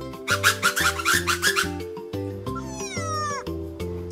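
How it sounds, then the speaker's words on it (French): A ring-tailed lemur, perched on a jungle branch, gives a series of short, soft mewing calls followed by a longer whistling meow, close and clear, with no talking. "le lémurien grimpe sur une branche et pousse un petit miaulement curieux"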